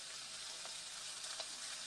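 Thinly sliced steak and onions frying in oil give a steady, fairly quiet sizzle, with a few brief louder pops near the end.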